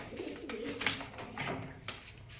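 Pigeons in flight and around a loft, soft intermittent cooing and wing flutters close by, with a few brief sharper bursts over a quiet background.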